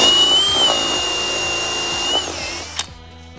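A power drill with a 7/8 bit whines steadily at high pitch, bearing down under load while reaming out a hole on a Chevy Venture, then winds down near the end with a brief clatter.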